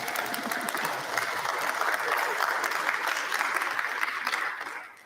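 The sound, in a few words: applause at commencement ceremony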